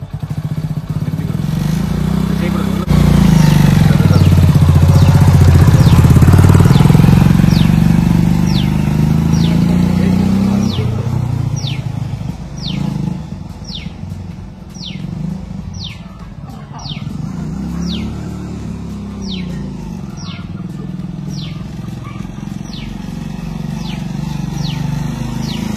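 Motorcycle engine rumbles loudly close by as the clutch is eased out and the bike pulls away slowly in first gear on a farm, the drone rising then settling, with steady high ticking throughout.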